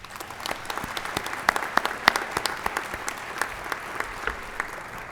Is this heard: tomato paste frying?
no